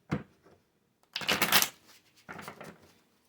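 A tarot card deck being shuffled nearby in three crisp bursts of riffling and flicking, the longest in the middle, with short pauses between them and no talking.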